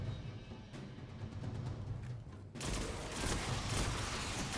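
Video game gunfire, a dense steady crackle of shots that jumps louder after about two and a half seconds and keeps going under the background.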